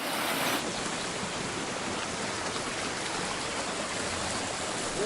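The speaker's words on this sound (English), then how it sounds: "And the river is going around the dam." Broad, steady rush of river water flowing around a small hydro dam at a mini hydro plant, a continuous close wash of noise with no voices.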